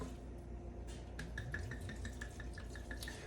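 White wine pouring into a roasting pan holding a duck, a thin steady trickle with rapid bubbly glugs and drips, close and fairly quiet over a low background hum.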